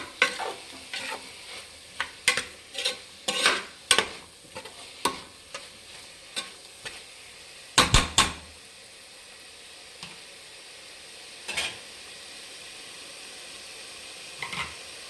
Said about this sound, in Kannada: ಇವಾಗ ಟೊಮೆಟೊ, ಇದು ಸ್ವಲ್ಪ ಚೆನ್ನಾಗಿ ಫ್ರೈ ಮಾಡಬೇಕು.